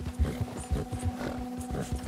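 Horse hooves clip-clop in Red Dead Redemption, a steady rhythm of muffled, close thuds roughly four per second over low game ambience.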